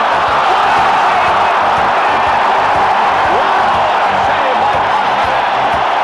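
Hockey arena crowd at a 1994 game cheering and applauding in a loud, sustained roar that fills the whole stretch evenly, with no break or lull.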